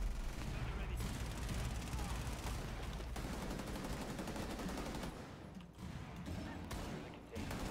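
Gunfire in Rainbow Six Siege, dense rapid automatic bursts and single shots, loud and continuous with brief pauses, mixed with faint game sounds.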